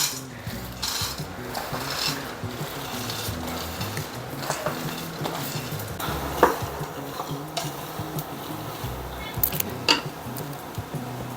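Home-grown peanuts dry-roasting in a pan, stirred with a utensil: continuous rattling and scraping with irregular clinks against the metal, close and fairly quiet, with light sizzle-like hiss throughout.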